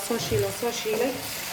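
Macaroni pasta fries in a pan with a soft sizzle and scraping stirs, while a voice talks over it close by.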